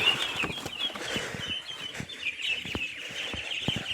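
Farm ducks being raised for sale, about 25 days old, with repeated short calls and a steady chorus of bird chatter close by, mixed with brief flapping and scuffling, and no talking.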